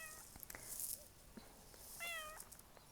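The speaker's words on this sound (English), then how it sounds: "now the cat's here." A house cat meows twice indoors, a short call early and a longer drawn-out meow near the end, close and fairly clear over faint room noise.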